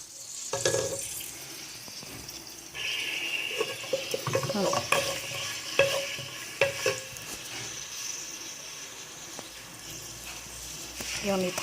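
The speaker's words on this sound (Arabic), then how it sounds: "نخليهم يتقلاو هكذا" Oil and garlic sizzle in a pot, the base for meatballs in tomato sauce. A steady frying hiss runs under frequent scraping stirs and clinks of a utensil against the pot.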